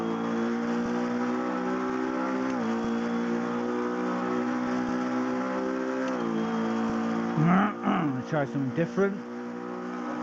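A sim racing car engine drones at a steady pitch, dips and climbs across gear changes, then chops through a burst of quick revs and downshifts near the end, while someone talks over it.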